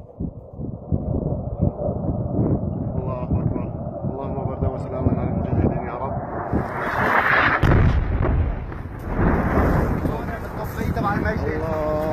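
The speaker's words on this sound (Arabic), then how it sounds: "قصف الطيران الحربي على منطقة البتراء في القلمون الشرقي" Warplane airstrike bombardment on the Batra area of the eastern Qalamoun mountains near Damascus: heavy, rumbling explosions and booming impacts roll on continuously, loud and close, swelling midway, with wind buffeting the microphone and voices shouting over it.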